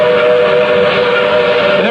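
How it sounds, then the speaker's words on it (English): A train whistle in South Africa, a loud sustained steady blast heard close and alone for its whole length. "Listen to that whistle."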